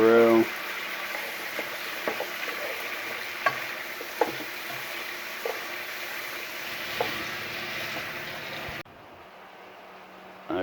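Faux jambalaya frying in a pan, a steady loud sizzle with occasional scraping clicks of stirring, and a brief voice at the start before the sizzle cuts off near the end.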